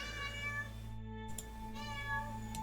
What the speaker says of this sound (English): My kitty's gonna meow at me rather aggressively.